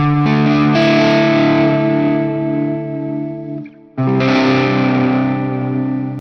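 A distorted Stratocaster chord rings with a non-floating tremolo-bar vibrato that only bends the pitch downward, cuts out briefly, then returns sustained and loud.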